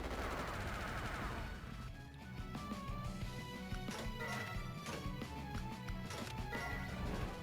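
Rapid gunfire crackles in a strategy video game, a dense stream of overlapping shots and impacts mixed over game music and effects at a fairly even loudness throughout.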